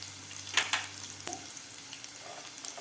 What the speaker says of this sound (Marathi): शेंगदाणे सुद्धा आपल्याला 1 मिनिटभर फ्राय करून घ्यायचे आहेत.